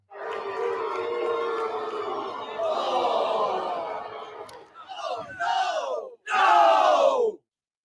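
A crowd yelling together in a game stream, a long sustained roar followed by several shorter shouted bursts with brief gaps between them.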